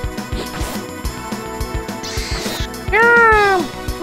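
A cat meows once in the Sega Saturn-era RPG Shining the Holy Ark: a loud, drawn-out, falling meow near the end, rising over busy game music and battle effects.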